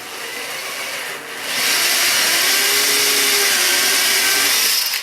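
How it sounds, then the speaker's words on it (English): A power drill bores mounting holes for a Dillon RL550B reloading press, whining loudly and steadily for several seconds close by, rising in intensity midway as the bit bites deeper. "so I'll go ahead and drill these down."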